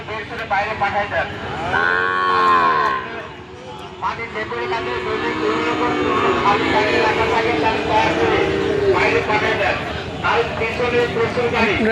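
Calves and cattle mooing at a busy calf market in Rustampur, Rajshahi, with one long drawn-out moo close by and further lowing among a crowd of chatter and voices.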